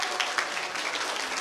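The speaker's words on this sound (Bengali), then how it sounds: "মেয়েরা একটু হাততালি দাও।" Girls applauding at a school annual function, a steady wash of many hands clapping together throughout, moderately loud with no talking over it.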